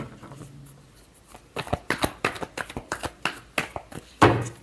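Tarot cards are shuffled by hand in a quick run of crisp riffles and taps, starting after a quiet stretch and finishing with a sharper snap near the end.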